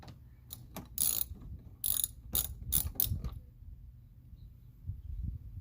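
A ratchet tightens a bolt on a Hellcat rear diffuser, with several short bursts of sharp clicking, some quick and some spaced, close by and fairly quiet over a low background rumble.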